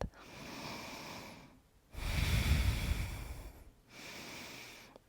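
Slow, deep breaths taken while holding a yoga pose: a long drawn inhale, a heavier rushing exhale in the middle, then another breath, all close and fairly quiet with no talking.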